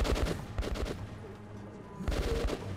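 Bursts of gunfire from the video game Metro Last Light, set in marshes, come in rapid clusters at the start and again near the end, with a quieter stretch of low ambience between them.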